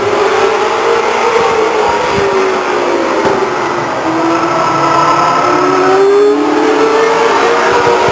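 A race car on the last lap at Stockton 99 Speedway in 1999 roars past loudly down the backstretch, its engine pitch sweeping up and down under a constant rumbling drone.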